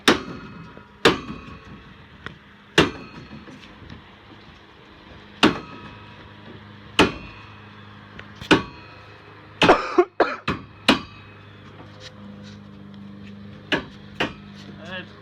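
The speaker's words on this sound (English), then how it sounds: "Just give it a hit like that with a rubber mallet, plastic mallet." A rubber or plastic mallet taps NUDURA ICF foundation blocks during a stone foundation repair, giving a series of sharp, separate knocks at irregular intervals, with a quick cluster of hits midway and faint handling noise between.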